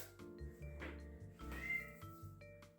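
A cat meows repeatedly indoors, a few drawn-out cries at close range with a steady background hum beneath.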